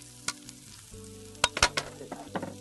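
Greens and sliced radish are tossed with seasonings in a hot pan, giving a soft sizzle under a cluster of sharp scraping clicks and tossing knocks in the second half.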